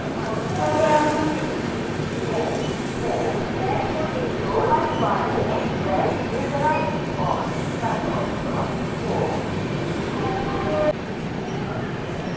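The Delhi–Yeshwantpur AC Duronto Express rumbles past Bhopal Junction with a steady loud roar and wheel clatter, a horn sounding early, while someone talks over it.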